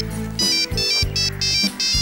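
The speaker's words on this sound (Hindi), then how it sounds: "ओह ये तो मैडम सी का फोन आ रहा है।" An electronic phone ringtone plays for an incoming call, a loud repeating melodic pattern in short bursts with brief gaps, heard alone without talk.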